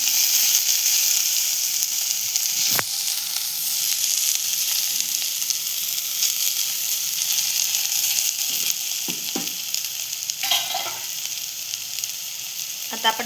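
Onion and tomato sautéing together in a hot pan for a Marathi radish-pod vegetable dish, a loud steady close sizzle with occasional stirring scrapes and clinks.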